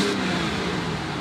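A Rolls-Royce Phantom's 6.7-litre naturally aspirated V12 revs close by, a dense, steady engine roar with no talking over it.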